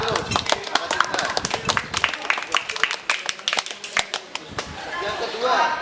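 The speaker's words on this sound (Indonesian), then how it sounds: "Applause dulu, tepuk tangan dulu." Pupils in a relay-running athletics lesson clap for a classmate, a lively but uneven round of close hand claps that thins into scattered individual slaps before swelling again.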